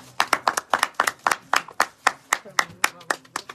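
Audience clapping in rhythm at a gathering, crisp, evenly spaced claps about four per second, close and loud, forming a steady beat with no talk over it.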